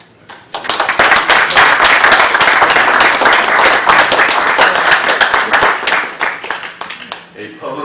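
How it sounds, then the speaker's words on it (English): Audience applause at a Plainfield city council meeting: a loud, sustained round of many hands clapping that starts abruptly, holds steady for several seconds, then thins into scattered claps at the end. "you guys deserve an applause today."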